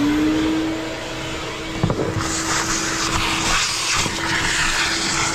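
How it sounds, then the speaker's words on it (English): Vacuum cleaner working the floor behind the removed back seat of a turbo Honda Civic, a steady close motor whine with a brief knock of the nozzle midway and shifting suction as it moves. "I think I am going to vacuum it back here a little bit just to get some of this dirt out"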